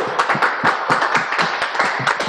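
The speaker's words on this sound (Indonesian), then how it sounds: "tepuk tangannya." Audience applause at a live morning talk event with company directors, clapping for a questioner and the guest speaker; a steady, dense patter of many hands, fairly close and continuous throughout without talk.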